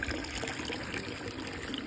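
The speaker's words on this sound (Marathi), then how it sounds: "नळाची धार अशी येऊन राहिली. तर या धारीमध्ये आम्ही पाणी भरून राहिलो आता." Water streaming from a tap with no spout as buckets are filled, a steady unbroken splashing rush that runs from start to end.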